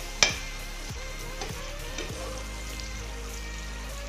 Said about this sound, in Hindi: प्याज नूं असी गोल्डन ब्राउन होण तक पकावांगे।